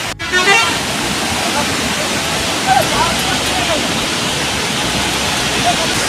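Loud, steady rushing roar of the Seven Sisters waterfall at Cherrapunji, Meghalaya, close by and filling the whole stretch without a break, with a few brief louder surges.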